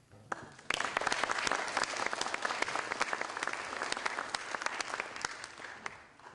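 An evening audience at a health care talk claps for the speakers, a dense burst of applause that starts abruptly, holds steady with many overlapping hand claps, then tapers off.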